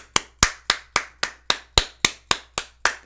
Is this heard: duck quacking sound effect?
no